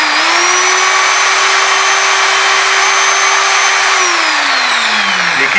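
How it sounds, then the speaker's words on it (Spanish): An electric drill spins a fishing bobber mounted on a small metal rod, a steady loud high whine held evenly, then dropping in pitch as the motor winds down at the end. "Conseguí un fierrito del mismo tamaño que la bollita. Lo pongo en el taladro."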